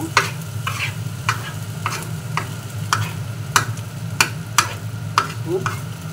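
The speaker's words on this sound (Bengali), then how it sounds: "আমি এবার ভাতগুলোকে সরিয়ে দিব।" Cooked rice being scraped and pushed aside in a pan while making a South Korean rice dish: sharp scraping strokes repeat about every half second over a low, continuous frying hiss, with no talking.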